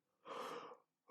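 A single brief, breathy yawn-like exhale, imitated by a storytelling voice, comes alone and fairly quiet before falling away into silence.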